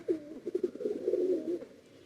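Pigeons at a breeder's loft coo continuously, a low throaty burbling close by and moderately quiet, with several overlapping rolling calls and no talk.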